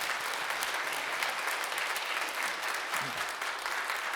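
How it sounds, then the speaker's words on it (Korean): Members of a church congregation at a revival service clap together to welcome their pastor, a thick, sustained burst of applause from many people that holds steady for several seconds without talking. "영광의 박수 올려드리며 우리 목사님 맞이하겠습니다."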